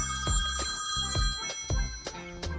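A smartphone rings after being located from a paired smartwatch, a bright electronic ringing tone pulsing in a steady repeating pattern of about six beats, clear and close with no talking.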